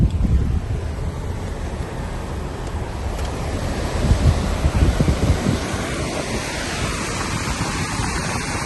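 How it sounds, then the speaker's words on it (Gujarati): A river near Sonamarg rushes past a bridge in a steady broadband roar, loud and continuous throughout, with wind buffeting the microphone and no talking. "હા, નદીનું પાણી તો જુઓ તમે."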